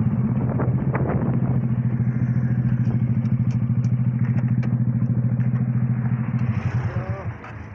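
A motorcycle engine idles loudly and close with a steady, rapid low throb as the bike is ridden and parked, dropping off near the end, while someone speaks briefly over it.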